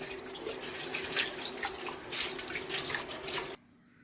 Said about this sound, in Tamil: எல்லாத்தையுமே ஒன்று ஒன்றா கழுவி நம்ம எடுத்துடலாம்